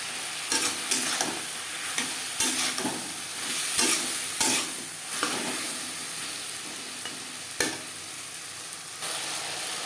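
A spoon scrapes and stirs raw banana with green chili paste in a sizzling pan for fish curry, with sharp clacks at irregular intervals over a steady frying hiss.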